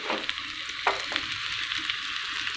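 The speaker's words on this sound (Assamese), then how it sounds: "এতিয়া মই ইয়াতে পিঁয়াজ এড কৰি ল'ম।" Chopped onions frying in a pan as the base for a chicken curry, with a steady, fairly quiet sizzle and a couple of brief stirring scrapes partway through.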